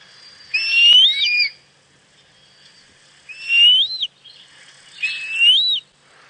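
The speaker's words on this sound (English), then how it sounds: "So that's the sound of the African Harrier hawk." An African harrier hawk gives three high, thin whistled squeals, each about a second long and rising at the end, separated by short silent gaps, clear and fairly close.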